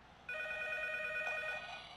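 A telephone in the horror game P.T. rings in a single sustained electronic trill, bright and buzzing, starting abruptly and fading after about a second and a half against a quiet, hissy background.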